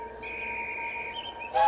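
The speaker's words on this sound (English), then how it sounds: "The guard blew his whistle" A railway guard blows a whistle, giving a single steady shrill blast of about a second that stays loud and close.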